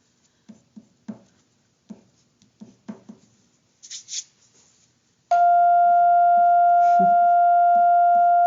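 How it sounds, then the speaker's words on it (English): A school bell rings with a sustained, loud electric tone that cuts in abruptly and holds steady, following a few soft taps and light scratching sounds in a quiet room. "Never thought you'd miss the school bell."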